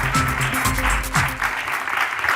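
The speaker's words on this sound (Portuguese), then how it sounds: "Um grande aplauso." Audience claps at a rare-disease awareness talk, loud dense applause filling the room with a voice or two rising briefly within it.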